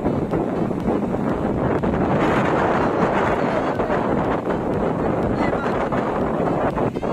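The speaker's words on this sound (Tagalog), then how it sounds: "ihip ng hangin maririnig" Strong wind roaring and buffeting the microphone by the East Philippine Sea at Starfish Beach Resort, loud and continuous with gusty surges, voices faintly under it.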